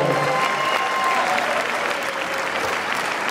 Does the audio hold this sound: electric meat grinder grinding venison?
no